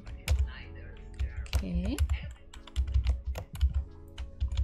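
Typing on a computer keyboard while switching between languages to write in Russian, with clustered clicks and keystrokes scattered throughout, partly under a brief spoken word and a voice.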